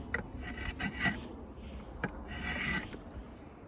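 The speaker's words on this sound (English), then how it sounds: "We will pull off the corners by setting the stock in the vise and then holding the draw knife at a 45 degree angle." A draw knife shaving the corners off wooden peg stock held in a vise, quiet rasping strokes repeating irregularly, each a short scraping pull across the wood, heard close with no speech.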